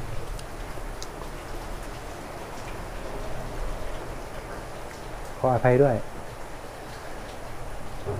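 Steady rain hisses softly in the background, and a person speaks briefly partway through.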